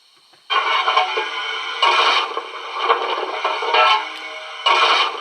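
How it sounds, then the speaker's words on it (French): Bursts of gritty, scraping noise repeat in uneven waves as coal is shovelled into a model locomotive's boiler, a sound-decoder effect, loud and close with short pauses between scoops. "Le chargement du charbon dans la chaudière."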